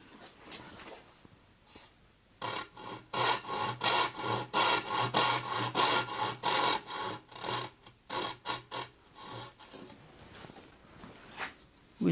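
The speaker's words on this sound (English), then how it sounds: "With the majority removed by the saw" A hand saw cutting wood for a drawer joint in a small garage workshop, a run of rapid rasping strokes close by that start, speed up and then taper to a few scattered scrapes, with faint background noise.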